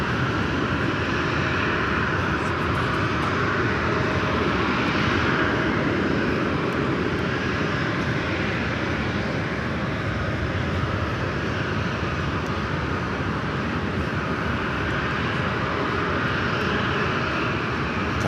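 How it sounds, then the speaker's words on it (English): An Airbus A319, formerly an America West jet, roars down the runway on its takeoff roll at LAX, a loud, sustained engine rumble and rushing whine that holds steady throughout with no voices. "A319 rolling it down runway 19er."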